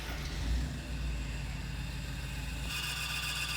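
A 1967-1972 Ford truck engine idles steadily nearby during air-conditioning kit installation, a low even rumble with a steady whirring hum and no talk.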